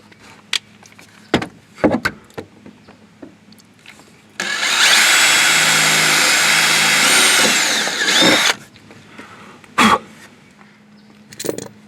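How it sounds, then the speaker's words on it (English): A power drill bores a 1/8 inch hole in the wheel well of a 2011-2016 Ford F-250/F-350 truck, one loud steady whine lasting about four seconds between scattered clicks and handling knocks. "we're going to take our drill and we're going to drill 1/8 inch hole here"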